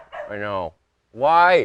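Small dog giving two short, loud yips or whining barks close by, with brief talk around them.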